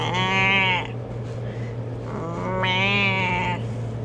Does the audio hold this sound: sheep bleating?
yes